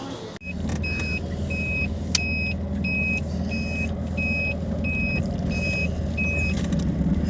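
A car drives away from a market, with a steady engine and road rumble heard close from inside the cabin and a regular series of short electronic beeps repeating through it, no talk.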